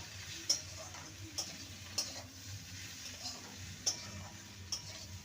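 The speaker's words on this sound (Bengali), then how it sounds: "ভালো করে ম্যাগি মশলা দিয়ে নেড়ে নিলেই এটা রেডি" Okra tossed with Maggi masala in a pan: a faint low sizzle with a handful of distinct spatula ticks against the pan, spaced unevenly, close but quiet.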